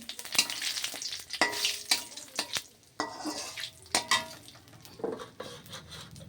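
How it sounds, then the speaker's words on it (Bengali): Cumin seeds, dried red chillies and torn bay leaves hit hot oil in a pan, giving bursts of crackling sizzle with sharp clinks of a spoon stirring against the metal, close and lively. "তেলটা আমার গরম হয়ে গেছে এবার আমি এই যে কটা জিরে শুকনো লঙ্কা দুটো আর দুটো ছিঁড়ে তেজপাতা দিয়ে দিলাম ফোড়ন"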